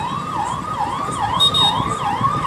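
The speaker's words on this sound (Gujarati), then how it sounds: "શું પોલીસની ગાડી છે." A police car siren wails nearby in a rising-and-falling cycle, repeating steadily and loud over a faint traffic hum.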